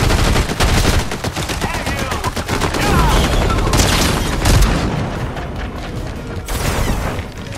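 The Monarch pistol fires in Fortnite with dense, loud rapid shots and booms, heard in bursts and overlapping with other in-game explosions and action noise.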